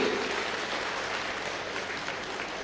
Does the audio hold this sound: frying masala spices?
no